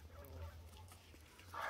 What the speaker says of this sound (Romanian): găinile lui bunicu